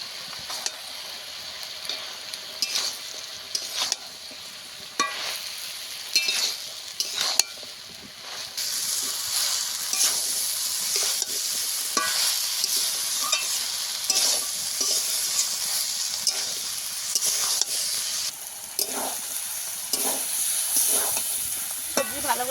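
Spices are sautéed with tuna fish and brinjal in a pan, with a bright, continuous sizzle and frequent scraping stirs and metal taps, close and steady, growing fuller after the first few seconds, no speech.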